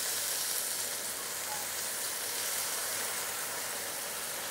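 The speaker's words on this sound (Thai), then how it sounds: "เติมกะทินะครับ" Coconut milk pours into a hot pan of shrimp and mushroom curry, setting off a loud, steady sizzle and bubbling hiss that runs unbroken throughout, close and with no talking.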